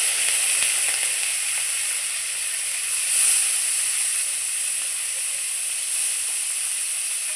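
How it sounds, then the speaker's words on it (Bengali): Darka fish frying in oil in a pan, giving a continuous bright sizzle and hiss at close range, steady with slight swells and no voices. "বাদ বাকি মাছগুলো আমি আবারও ছেড়ে দিচ্ছি।"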